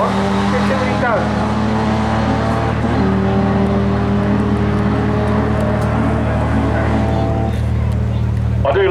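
A Mark III Astra van revs hard for a tyre warm-up at the Brighton Speed Trials, a loud steady engine drone with rising harmonics and crowd chatter beneath, ending in a sharp rev.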